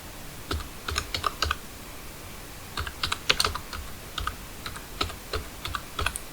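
Keys clack on a computer keyboard while text is typed into MS Word, close and crisp, in short irregular bursts of quick keystrokes separated by brief pauses, with no talking.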